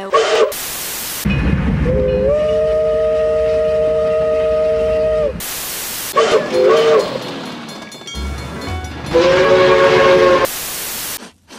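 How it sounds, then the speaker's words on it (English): A steam whistle on PRR locomotive #1361 sounds in several long blasts, with chugging, hissing train noise between them and sharp bursts of static interrupting. "Steam engines have whistles that sound like this."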